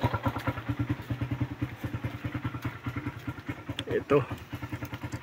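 A Suzuki Raider motorcycle engine with an overheating fault, heard up close through a stethoscope, runs at a steady, rapid idle with loud, even thumping pulses; a voice briefly speaks near the end.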